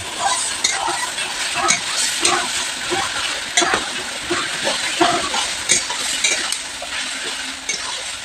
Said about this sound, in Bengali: এই চুলো জ্বলছে মশলাটা আমি এখন কষাচ্ছি